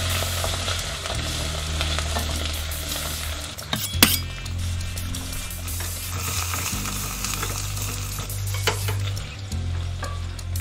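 Vegetables for a vegan minestrone fry in a pan with a steady, close sizzle, while a utensil stirs and clinks against the pot now and then. No one speaks.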